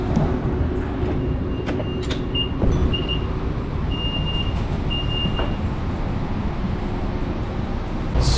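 San Diego trolley light rail train idling at a station, with a steady low rumble, brief high warning tones and clanks over continuous broadband noise.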